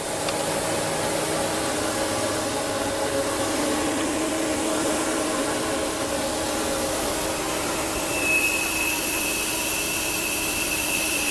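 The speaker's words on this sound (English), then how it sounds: "At this time we hear the relief valve coming off." An inflatable boat's floor relief valve releases air in a steady, loud hiss that holds for the whole stretch, with a brief rise and a higher whistling tone appearing near the end.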